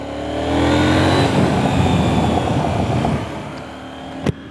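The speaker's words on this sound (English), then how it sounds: "I love the way this engine sounds, this parallel twin." A KTM Duke motorcycle with a parallel-twin engine revs and accelerates, a strong steady growl heard loud and close from the rider's position that eases off near the end, followed by a brief sharp click.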